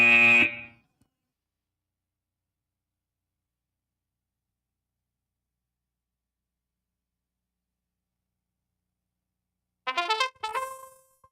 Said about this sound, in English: That buzzer means that it is time for expansion